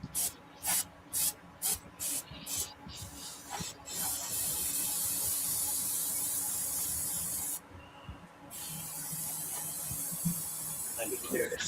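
A paint sprayer laying down a base coat, opening with a run of short hissing bursts and then one long steady spray hiss, cut off briefly and resumed, with faint background noise and no voices.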